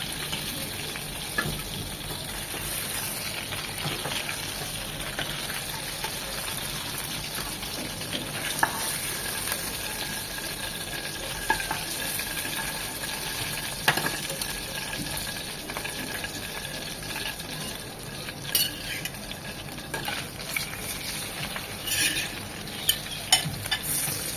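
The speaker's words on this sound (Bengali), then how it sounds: "ওই পাশটাও এরকম 1 মিনিট ভেজে নেব।" Fish fry in hot oil in a pan for a tomato fish curry, giving a steady close sizzling hiss with scattered crackles and soft spatula taps throughout.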